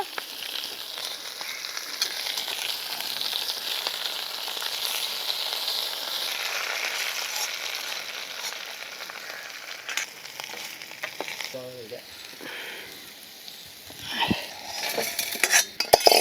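Pieces of nalleru stem frying with salt in a pan make a steady close sizzle, with occasional stirring and a few metal clinks of a utensil against the pan near the end.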